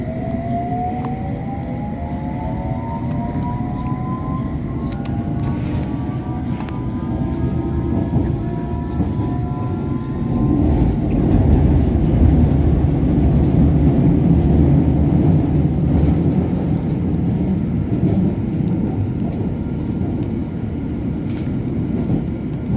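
Metropolitan line S8 Stock Underground train running on London's network, a loud steady rumble and rolling clatter throughout with rising and falling whine of traction motors as it accelerates and later gathers speed.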